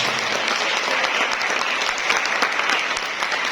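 A crowd at a madrasah aliyah closing ceremony for student orientation in Pacet, Mojokerto, breaks into loud, sustained applause, a dense and steady roar of many hands filling the room.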